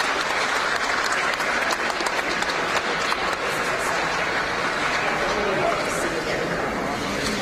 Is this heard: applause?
yes